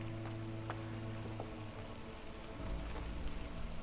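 Drizzle in the Against the Storm video game: a steady, soft hiss of light rain with scattered faint drop ticks, joined by low ambient tones that swell slightly near the end.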